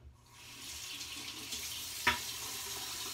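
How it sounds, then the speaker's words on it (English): A tap runs steadily into a sink while a shaving brush soaks in hot water, a soft continuous hiss of flowing water with a single brief clink partway through. "So I'll wet my brush. I soak it in the hot water,"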